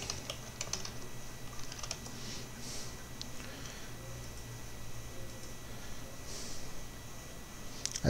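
Soft, rapid keystrokes tap on a computer keyboard as a password is entered, steady and close against a faint background hum, with no talking.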